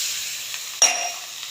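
Water splashes into a pan of frying jute leaves and sets off a brief sharp hiss and sizzle that quickly settles back to quieter frying.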